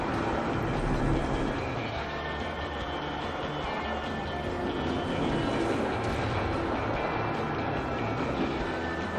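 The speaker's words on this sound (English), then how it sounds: "This is a great mine train coaster." Mine train roller coaster ride in the video game Planet Coaster, a steady rumbling clatter of cars rolling along track that holds at an even, fairly loud level throughout, with no talk.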